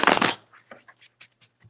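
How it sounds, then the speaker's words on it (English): Tarot cards being shuffled hard, an opening riffle burst followed by a series of soft, quick card taps and slaps, close and clear without talk. "I'm going to shuffle hard."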